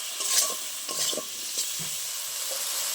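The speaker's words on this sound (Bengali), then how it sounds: "ভালো করে একটু টমেটোটা ভেজে নেবো" Tomato with turmeric frying in a pan, a soft steady sizzle under a few light scraping stirs, fairly quiet and close, with no voices.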